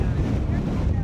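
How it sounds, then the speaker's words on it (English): Wind roars steadily across the microphone aboard a whale watching boat off Maui heading straight into it, with a broad constant rush and low rumble, loud and close throughout. "Like we're going right into the wind."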